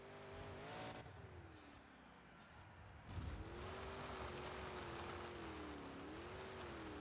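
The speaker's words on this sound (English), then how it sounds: "Excalibur fires up the engines!" The Excalibur monster truck's engine in the Monster Jam Showdown video game hums with a tonal drone that rises and dips in pitch, then surges louder after a brief lull and keeps revving without any voices.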